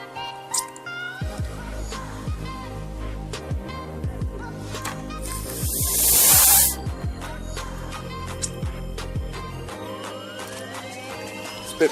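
A Vandyvape Mesh RTA vape tank crackles and pops with sharp little spits near the mic, over a continuous tonal background, with one louder sizzling hiss burst in the middle.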